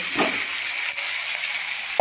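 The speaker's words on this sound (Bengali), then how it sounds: "এবারে হাই ফ্লেমে দিয়ে পনিরগুলোকে একটু হালকাভাবে ভেজে নেব" Paneer pieces frying in oil over a high flame, a steady close hiss of sizzling with a brief clink at the end, no voices.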